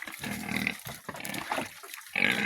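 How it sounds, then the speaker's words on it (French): Pigs grunt and squeal repeatedly, close and fairly loud, while being washed by hand with water on a farm, the calls broken into short bursts with brief gaps between them. "Là, nous sommes en train de laver nos porcs."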